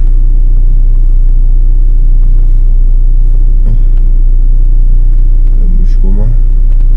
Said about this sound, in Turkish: Şimdi biraz araba ısınsın, motor ısınsın.